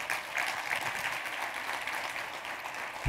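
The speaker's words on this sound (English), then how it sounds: "Give me a round of applause." An audience breaking into steady applause, a dense clapping wash that holds for a few seconds.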